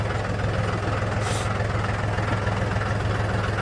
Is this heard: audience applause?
no